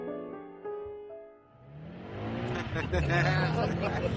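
A car accelerating as a sound effect in a radio drama, with the engine climbing from a low idle into a loud revving roar and pitch rising steadily over a couple of seconds, while voices talk over it.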